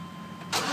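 A 1995 Chevy Tahoe LT 4x4 with a 5.7L V8 and a new starter cranks and catches, a brief low mechanical churn followed by a sudden louder surge as the engine fires.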